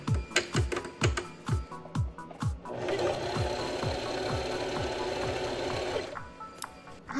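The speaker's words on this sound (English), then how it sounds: "And now we're going to try the zigzag stitch." A Singer Prisma heavy duty sewing machine runs a zigzag stitch, first in a series of distinct needle thumps, then a steady whirring run for a few seconds before slowing back to separate clacks, close and clear.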